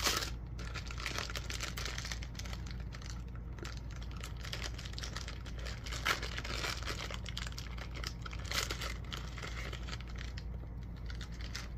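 A paper envelope is handled close by, its crinkles, rustles and soft taps continuing steadily with no talk.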